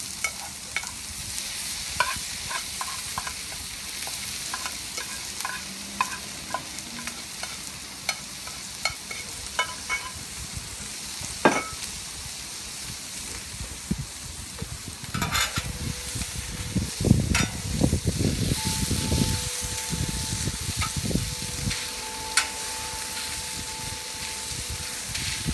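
Rice frying and being stirred on a Blackstone griddle, a steady close sizzle with repeated scraping of a spatula, the frying growing louder and busier partway through.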